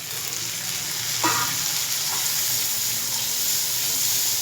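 Chopped tomatoes added to sautéed onions hit hot oil in a pan, raising a continuous loud sizzle and fry with a brief stir or scrape partway through, and no talk.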